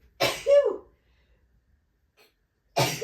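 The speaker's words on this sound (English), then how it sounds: "I'm going to sneeze." A single sharp sneeze bursts out close by, with a quick inhale and explosive release, then a short quiet pause before a second sneeze-like burst begins at the end.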